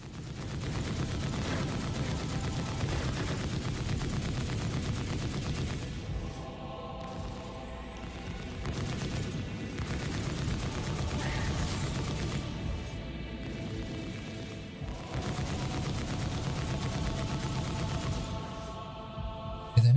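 Ship guns firing in the space combat game Star Citizen, a steady rapid stream of loud gunfire bursts running almost continuously with brief dips, up close and alone with no talk.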